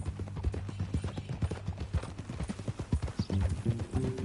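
Steady clip-clop of horse hooves over a low rumble, with a brief whinny toward the end; a faint voice may be present.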